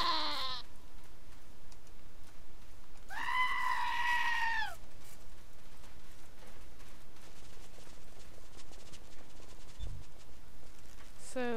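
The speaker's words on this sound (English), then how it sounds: "So we've got three goats following us" Goats bleat outdoors as three of them trail along behind, one short cry at the start and a longer, wavering bleat near the middle, heard over a steady background hiss.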